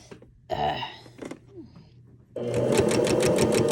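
A sewing machine stitching a fabric casing for a massage chair slipcover, heard as a fast, even run of rapid needle strokes close by after a few faint handling noises and a short pause.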